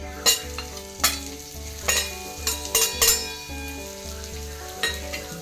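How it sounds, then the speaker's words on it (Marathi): Dried Bombay duck chutney fries in hot oil with a steady sizzle, broken by several sharp scraping clinks of a spoon stirring against the pan, close and fairly loud, with no voices. "तेल तापलेलं आहे. आता आपण यात चटणी तळून घेणार आहोत."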